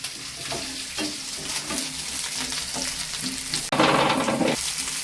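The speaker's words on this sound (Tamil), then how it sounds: "எண்ணெய் ஊற்றி வறுத்துக்கிறேன் இல்லையா" Ingredients fry in oil in a pan with a constant close sizzle, punctuated by rhythmic scraping stirs, and the sizzle flares louder near the end.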